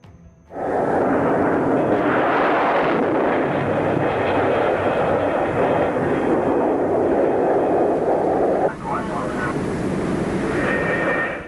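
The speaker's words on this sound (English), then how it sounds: "the Phantom is hurled down the catapult run and over the bow of the carrier at a speed of 185 miles per hour" An F-4E Phantom jet is flung down an aircraft carrier's catapult and off the bow at about 185 mph, a loud, continuous jet roar that rises suddenly and holds steady for ten seconds, with a brief dip near the end.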